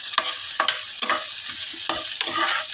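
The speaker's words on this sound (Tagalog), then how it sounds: "igisa na natin ang ating sibuyas at bawang" Onion and garlic are sautéed in a pan for chicken adobo. A loud, steady sizzle carries a run of stirring scrapes, about one every half second.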